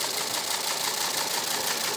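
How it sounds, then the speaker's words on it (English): A radio teletype machine prints at 45.5 baud, 60 words a minute, giving a steady, dense mechanical clatter that runs evenly and continuously at close range. "at 60 words a minute, so obviously a lot slower than your average machine today"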